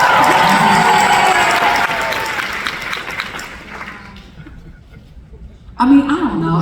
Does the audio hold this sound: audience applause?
yes